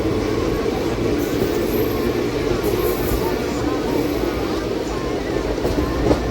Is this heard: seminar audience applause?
no